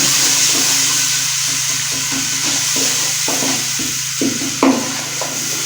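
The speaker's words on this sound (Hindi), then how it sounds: "हमने इसको 2 मिनट के लिए अच्छी तरह से भूनना है जब तक ये अच्छी तरह से ऑयल ना छोड़ दे" Masala for kidney bean curry (rajma lobia) fries in oil in a pan, a loud continuous sizzle with repeated scraping strokes of stirring and a low steady hum underneath.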